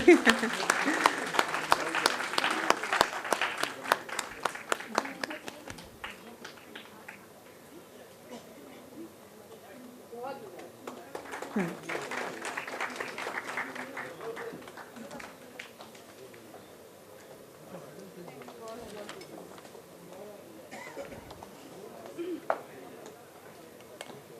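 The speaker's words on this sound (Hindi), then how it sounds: "जरा जोरदार तालियां बजाएं" At an All India mushaira where a doctorate degree is being awarded, the audience breaks into loud, brisk applause, fading, then a second shorter round of clapping follows, with speech in between.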